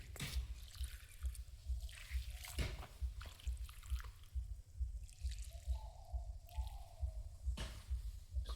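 Water is poured from above onto a newly planted gazania, giving soft drips, splashes and trickles that come in uneven bursts over several seconds, fairly faint and up close.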